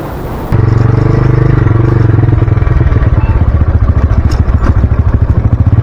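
A motorcycle climbing a rough off-road hill track, its engine loud and close with a steady throbbing pulse and rattling clatter throughout, after a brief burst of wind noise at the start.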